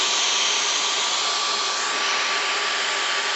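A Dyson V15 Detect cordless vacuum cleaner runs at full power, giving a loud, steady high-pitched motor whine with airy suction rush and no change in pitch or level from start to finish.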